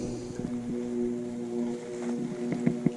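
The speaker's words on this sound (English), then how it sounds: "I can hear this noise, and it sounds like it might be a boat" A motorboat engine runs on a dam where petrol and combustion motors are not allowed, a steady low humming drone carrying across the water, heard from a kayak amid wind and light water noise.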